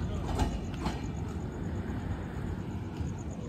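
A train rumbles past at moderate distance, a steady broadband roar with faint rhythmic clatter, no voices.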